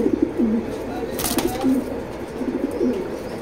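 Racer pigeons cooing close by, soft repeated throaty coos over a low background murmur, with a brief rustle partway through.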